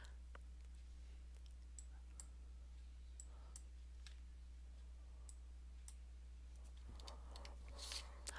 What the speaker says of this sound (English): I'll click Remove All and then click Close